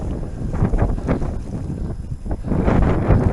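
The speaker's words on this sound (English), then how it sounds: "but it's too windy." Strong wind buffets the microphone during a leisurely e-bike ride through the Lincolnshire Wolds, a loud continuous rumble swelling and easing with no other clear sound.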